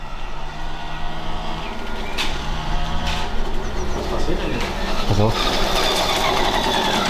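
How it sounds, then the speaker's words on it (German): An old moped's small engine runs loudly, its rough, buzzy putter continuing throughout while German voices talk over it. "Ich hab dein altes Mofa wieder zu laut gekriegt."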